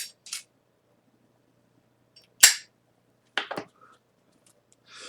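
A lighter being struck and lit, heard as a few sharp, brief clicks and flicks separated by silence, close and fairly quiet with no voices.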